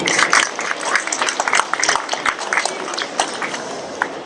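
Audience at a prize-giving ceremony claps loudly, individual hand claps standing out as crisp, uneven bursts in a lively round of applause.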